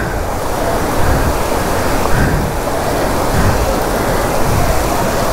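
Hidden blue waterfall at Mashenlodhi near Warangal, Telangana, rushing in a loud, dense, unbroken roar heard close up with no talk.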